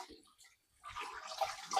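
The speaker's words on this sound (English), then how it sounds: "Here's the water we're adding." Water is poured into a pot of rendering beef tallow, a soft splash and steady trickle building after a brief pause, close and moderately quiet with no talking.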